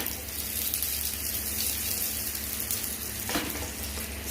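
Garlic cloves, a dried red chilli and cumin frying in hot oil in a pan, giving a steady close sizzle with a brief stir or clatter near the end.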